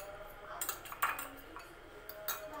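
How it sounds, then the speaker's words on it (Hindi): A spoon clinks and scrapes around a bowl while a homemade hair mask of lemon and yogurt is mixed, giving a series of sharp metallic taps and rattles at close range over a quiet background. "इसके अंदर जो है योगर्ट ऐड करूँगी और फिर इसे अच्छे से मिक्स करना है"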